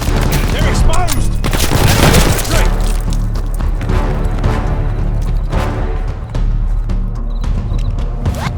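Machine gun on a half-track rattles in the Call of Duty Vanguard campaign mission Operation Tonga, loud sustained bursts mixed with other gunfire and explosions, with soldiers' voices shouting over the din.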